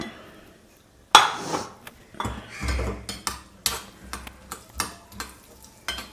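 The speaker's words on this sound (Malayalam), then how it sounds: "അത് ഇളക്കി കൊടുക്കുക." Raisins are stirred in a pan over a low flame, with scattered clinks and scrapes from a spoon against the metal and a faint sizzle underneath. No speech.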